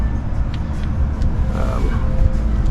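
Road traffic noise heard from beside a 2022 Rivian R1T, a steady low rumble of passing vehicles with faint higher swishes, moderately loud and continuous, no talk.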